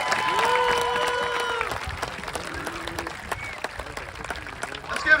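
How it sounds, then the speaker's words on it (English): An audience at a school assembly breaks into applause for a coach. A held tonal sound fades out at the start, then clapping and scattered cheers continue at moderate volume, rising again at the end. "let's give him another round of applause."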